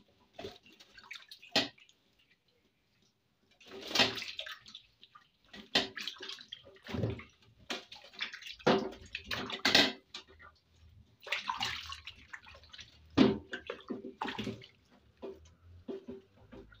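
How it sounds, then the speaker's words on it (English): Aloe vera leaf rinsed under running tap water, intermittent splashing and dripping bursts close by, with quiet gaps between. "So I go ahead and rinse it again the last time"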